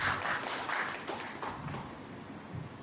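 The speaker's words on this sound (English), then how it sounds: "Another big round of applause for Ms." Audience applause for a speaker at an investment and market research session, a fairly faint, steady patter of clapping in a hall that slowly fades.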